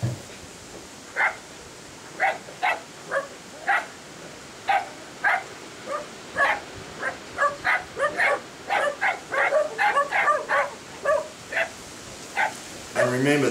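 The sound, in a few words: kelpie puppies barking at sheep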